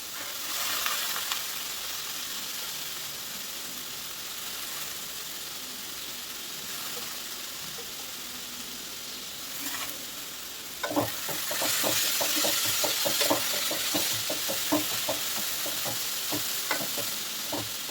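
Chopped bitter gourd sizzles in a hot pan, a steady broad frying hiss that swells louder partway through, with sharp clicks and crackles of stirring, close and alone without talk.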